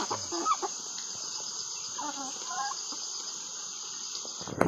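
Chickens cluck and a rooster calls faintly over a steady high insect-like drone, with brief bits of nearby voice at the start.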